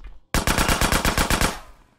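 A rapid burst of about ten loud pistol shots in the video game GTA San Andreas – The Definitive Edition fires in a tight, steady rhythm, then stops and leaves a short fading tail.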